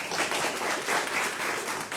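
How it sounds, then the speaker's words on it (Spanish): Audience applauds three authors at a book panel discussion, a brief wash of many hands clapping, steady and moderately loud, with faint voices underneath. "un aplauso para los tres"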